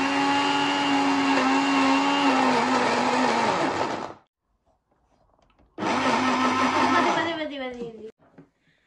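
A blender whirs loudly through oranges in a continuous motor roar, stops for a short silence, then starts again and winds down, close by, with voices speaking over it.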